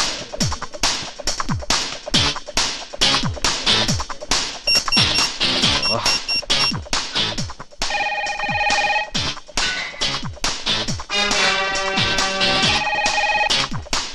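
A telephone rings in repeated electronic bursts, loud and close, set among film music and sound effects with no talking over it.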